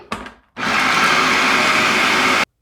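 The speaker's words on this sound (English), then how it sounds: "I'm just going to puree those up a little bit." A food processor purees red onions for coleslaw with a loud, steady whirring roar lasting about two seconds, after a brief clunk at the start.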